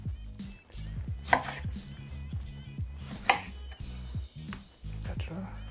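Knife cutting a lemon wedge for a Long Beach Iced Tea garnish on a board, several close taps and thumps in an uneven rhythm, with brief bursts of speech in between.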